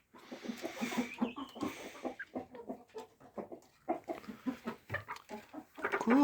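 Chickens, including bantam hens, in a home farmyard give a soft, steady run of clucking and murmuring calls, fairly close but quiet, with no talk.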